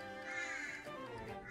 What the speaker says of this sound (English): why are the birds so damn loud?